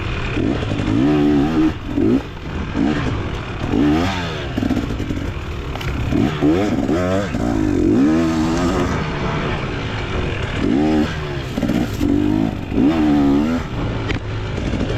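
A dirt bike's engine drones and revs steadily through rutted four-wheeler tracks during a race, loud and close, with the pitch rising and falling as the rider works the throttle, and a voice talks over it.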